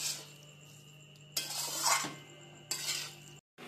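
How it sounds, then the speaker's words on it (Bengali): A spoon stirs pasta with vegetables and fried egg in a pan, in scraping, clinking bursts against the metal over a faint background hum. "এবার আমি সব একটু মিশিয়ে নিচ্ছি।"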